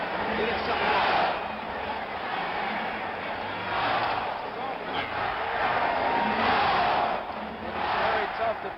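A loud basketball arena crowd at the Oakland Coliseum Arena during a 1975 playoff game between the Bulls and the Warriors, a dense roar that swells and falls in waves, with voices mixed in.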